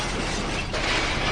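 A car pulling a trailer, driving on the wrong side of the road in My Summer Car, smashes into a bus with a short, harsh crunch of breaking metal and glass, loud and over within about a second.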